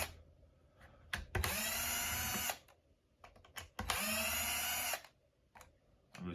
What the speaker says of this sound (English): I'm using a DeWalt DCF 610. Awesome drill.